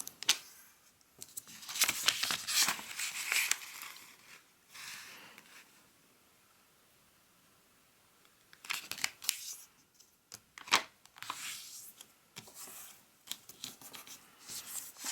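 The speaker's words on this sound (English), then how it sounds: "we will fold it in half, diagonally" A square of origami paper is creased and folded in half diagonally, giving close, crisp crinkles and sharp rustling bursts separated by quiet pauses, with no talking.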